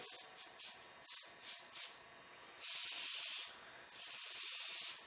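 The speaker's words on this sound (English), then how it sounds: "I have to tilt my airbrush to the side here" An airbrush spraying paint onto a diamond plate, short soft hissing puffs followed by two longer steady hissing sprays, close and fairly quiet.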